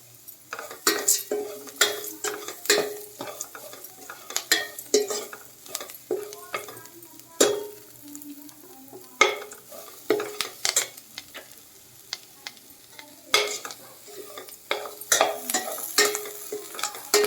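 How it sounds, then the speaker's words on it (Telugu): Onion frying in a pan for a yam and spinach curry, a steady sizzle broken by frequent sharp clinks and scrapes of a spoon stirring against the metal pan, close and fairly loud, with no talk. "ఇలాగా వేగే చూసారా ఉల్లిపాయ సగం వేగితే"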